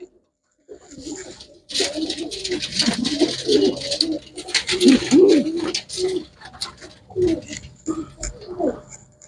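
Flying-breed pigeons coo repeatedly in low, throaty bursts close by, with rustling and a few other bird calls around them; no one speaks.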